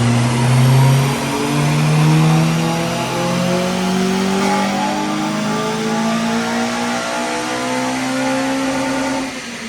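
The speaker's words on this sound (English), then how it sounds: "we're going to do a stock power run" A stock Honda Civic Type R EP3 engine revs on a dyno during a power run, one loud, continuous pull climbing steadily in pitch for about nine seconds before cutting off.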